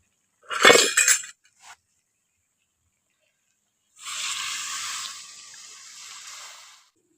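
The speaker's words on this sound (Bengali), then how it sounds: "এবার পরিমাণ মতো জলটা দিয়ে দেব।" Water is poured into a cooking pot of potatoes and chicken, a steady splashing pour lasting a few seconds after a brief clink of utensils, close and alone without talk.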